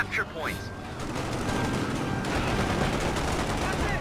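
Rapid automatic gunfire from an M20 armored car in a WWII real-time strategy game, sustained dense bursts rattling on for several seconds while it fires on an infantry squad.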